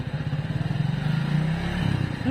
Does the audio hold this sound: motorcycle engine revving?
yes